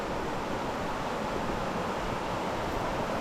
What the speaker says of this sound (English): I can already hear the water.